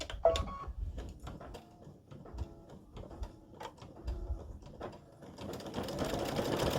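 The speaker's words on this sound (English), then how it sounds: "that's going to do the top stitching on the top of the straps" A computerized embroidery machine top-stitches the straps of flip-flops with a rapid, rhythmic needle chatter, close and steady, building into a denser whir toward the end.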